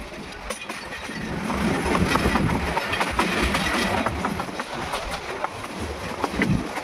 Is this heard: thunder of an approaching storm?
no